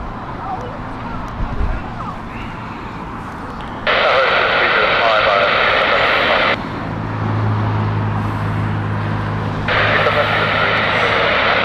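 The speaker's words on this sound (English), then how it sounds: "Next up is the British Airways Gibraltar flight, Airbus" A British Airways Airbus A320-200 arrives at Heathrow in crosswinds, a steady engine roar rising in loud broadband surges, with someone talking over it.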